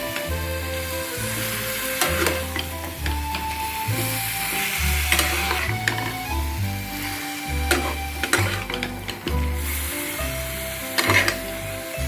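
Marinated chicken curry, cooked without oil, is stir-fried in a pan with a loud, continuous sizzle and repeated scraping strokes of a spatula at an uneven rhythm.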